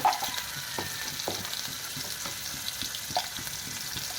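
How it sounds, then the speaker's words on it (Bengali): Ginger garlic paste and turmeric powder hitting hot cooking oil produce a steady crackling sizzle with a few stirring scrapes, close and moderately loud, with no voices. "তেলটা গরম হলে আদা রসুনের পেস্ট একটু দিয়ে দেবো সামান্য, একটু হলুদ গুঁড়ো দিয়ে দেবো"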